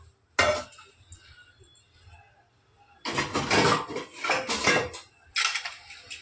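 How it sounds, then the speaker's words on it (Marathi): A metal lid clanks and scrapes onto a pressure cooker several times, loud and close, with brief quiet gaps between the knocks and no voices. "कुकरला आणि झाकण लावून घेऊ"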